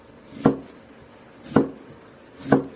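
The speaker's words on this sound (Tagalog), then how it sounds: "Tapos hiwain na rin natin ang pipino o cucumber." A knife slicing cucumber for pickles, three crisp separate chops against a cutting board roughly one second apart, close and clear with no talking.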